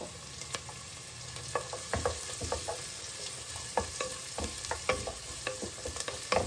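Finely chopped onion fries in a pan for chicken sambar, a steady soft sizzle with scattered clinks and scrapes of a spoon stirring close by, and no talking.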